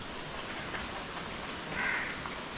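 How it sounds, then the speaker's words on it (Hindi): Heavy rain pours down steadily, a dense, even hiss that fills the whole stretch without pause and no voices are heard. "लेकिन अभी फिर से ज़बरदस्त बारिश शुरू हो रखी है"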